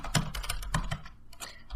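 Someone types a command on a computer keyboard: several quick, close key clicks in an uneven rhythm, with a brief pause before a final burst of keystrokes.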